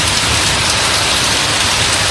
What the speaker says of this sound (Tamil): தஞ்சாவூர் மாவட்டத்தில் 30 நிமிடங்களுக்கு மேலாக மழை வெளுத்து வாங்கியது.